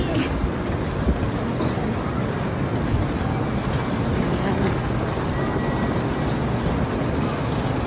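Shinkansen N700 Supreme bullet train heading to Shin Osaka, a steady, loud rumble and rush of running noise throughout, with no talk.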